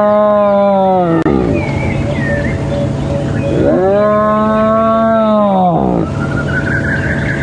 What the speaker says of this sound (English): Here comes the cub, here comes the cub. And it's squealing.